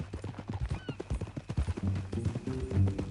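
Horse hooves clip-clopping at a steady walking pace in the Red Dead Redemption 2 video game, close and clear, with a brief whinny and low ambient game sound underneath.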